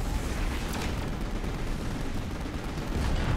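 Gunfire in the Final Fantasy 15 Episode Prompto video game, a dense, continuous roar of rapid shots and blasts that holds loud and steady throughout, with no talk over it.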